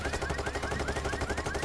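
Rapid steady automatic gunfire in Payday 3, a short burst of evenly spaced shots at moderate loudness with no voices over it.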